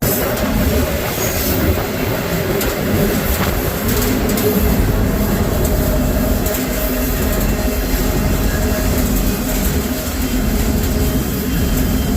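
A train rumbles steadily and loudly throughout, with continuous wheel and carriage noise mixed with wind.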